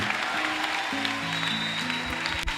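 Congregation applause during a church service, a steady wash of clapping beneath sustained musical tones, moderately loud and continuous throughout.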